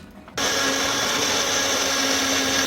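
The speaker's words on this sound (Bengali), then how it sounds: "এটার মধ্যে আবার একটু পেঁয়াজ পেস্ট করে নিচ্ছি" A kitchen blender grinds onion into paste, kicking in abruptly after a quiet moment and then running as a loud, steady whine with a constant high hum, close and uninterrupted to the end.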